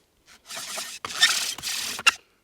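A bow drill rubs wood to make fire during an outdoor survival challenge, giving several rasping, scraping strokes in short bursts with brief pauses between them, close and fairly quiet.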